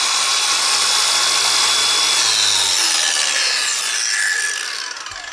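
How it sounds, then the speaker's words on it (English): A Makita 18V cordless angle grinder fitted with a sanding disc grinds across rusty metal, a loud continuous abrasive whine and rasp held close and steady before easing slightly at the end. "And let's go to look at how this sanding happens."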